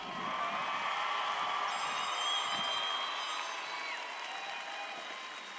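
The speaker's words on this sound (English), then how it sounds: "let's give them one more big round of applause" A large audience at a 2020 high school graduation ceremony applauds in a steady, sustained wash of clapping that holds evenly throughout and fades slightly toward the end, heard from a distance without speech.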